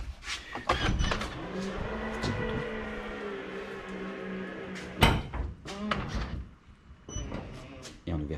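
Electric struts on a Tesla Model X frunk, triggered by remote, hum steadily as the lid rises for a few seconds. Short clunks follow, and quiet voices talk over parts of it.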